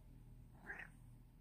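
A kitten gives a single short, faint meow over a quiet low background hum, heard once in the middle of the moment.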